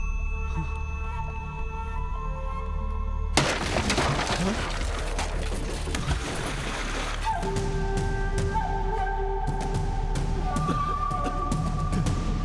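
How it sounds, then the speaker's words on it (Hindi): A windmill pole snapping and crashing down in a film scene: a sudden loud burst of breaking and clattering noise cuts in over a quiet background, followed by a sustained rumbling, rattling din with ringing tonal layers underneath. "वो विंड मिल का खंभा टूट गया"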